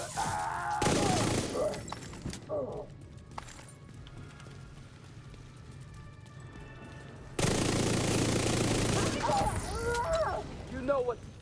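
Gunfire in a shooter video game comes in two loud sustained bursts of automatic shots, separated by a quieter stretch of background game noise.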